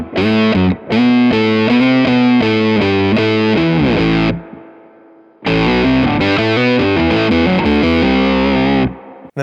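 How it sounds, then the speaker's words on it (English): An octave guitar pedal's built-in drive, aggressive and heavily distorted, plays loud chugging chords alone, with a short gap where a note rings out and fades before the riff resumes. "It's a very aggressive sounding drive, so this is kind of what it sounds like."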